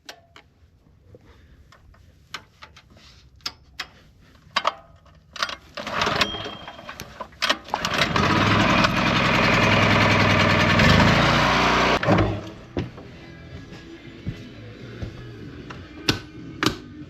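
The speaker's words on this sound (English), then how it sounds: "Okay, we're gonna get the generator going here." Generator at an off-grid cabin, first scattered clicks and rattling, then an engine pull and roar that runs loud and steady for several seconds before cutting back to intermittent ticks and knocks nearby.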